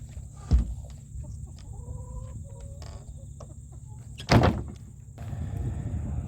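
Chickens cluck inside a movable chicken house and run, with soft calls scattered over a low background, broken by two loud knocks or bangs, likely from a door, and a rougher rustling that builds toward the end.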